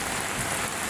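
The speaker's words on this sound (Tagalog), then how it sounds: "Maulan na naman ngayon." Rain falling steadily near Manila Bay, with a dense, continuous hiss of drops hitting surfaces, close and fairly loud, no voices.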